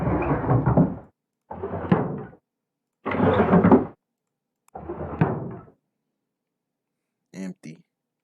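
A drawer is pulled open in the horror video game Murder House, a series of four sliding, rattling wooden scrapes with pauses between, followed by a short faint clatter.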